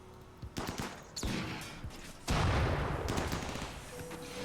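Rapid bursts of turret gunfire in the RimWorld video game, with dense crackling volleys starting and stopping in clusters, growing heavier and louder toward the end with a low rumbling boom.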